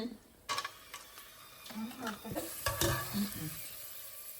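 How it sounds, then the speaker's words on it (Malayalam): Onions, cashews and raisins frying in oil in a pan for biryani, a steady sizzle broken by scraping stirs and light clinks of a spoon against the pan, close and busy. "നമുക്ക് ആദ്യം നമ്മളെ ഉള്ളിയും അണ്ടിപ്പരിപ്പും മുന്തിരിയും ഒക്കെ നമുക്ക് ജസ്റ്റ് പൊരിച്ചെടുക്കാം"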